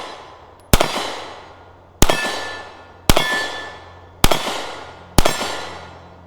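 Five sharp, loud pistol shots from a Sig Sauer P938 fired at an unhurried pace, each crack followed by a ringing decay, with no talking between them.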